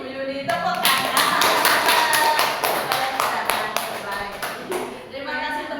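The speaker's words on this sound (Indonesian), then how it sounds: "Terima kasih Bu Yuni, tepuk tangan." A group of teachers at a school session on positive discipline claps in thanks for a teacher, giving a quick run of loud, evenly spaced unison claps that breaks off briefly, then resumes.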